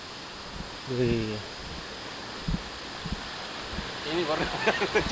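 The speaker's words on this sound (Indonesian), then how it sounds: "Ini air mengalir nih. air ngalir. Terjun dia, cuma pendek." A short, small waterfall of flowing water, heard as a steady broadband rush throughout, with brief talk near the start and end.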